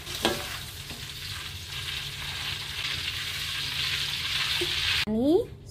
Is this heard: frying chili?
yes